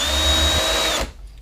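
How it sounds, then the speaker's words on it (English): A power drill spins steadily while trimming a .223 brass cartridge case, a loud continuous whine with a high tone that cuts off abruptly near the end. "so I'll just run my drill,"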